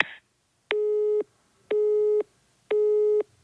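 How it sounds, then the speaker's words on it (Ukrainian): A telephone busy signal: three evenly spaced tone bursts of about half a second each, separated by equal silences, clean and steady with no voices over them. "Номер абонента, якому ви телефонуєте, зайнятий, або абонент відхилив ваш виклик"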